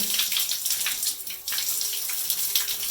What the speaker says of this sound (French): Voilà le reste d'eau qui va circuler